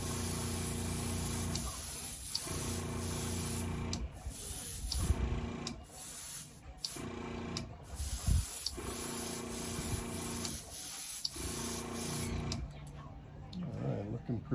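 An airbrush or spray gun lays a second coat of paint on a model car hood, its soft hiss coming in repeated bursts of a second or two with brief pauses between passes, fairly faint and close.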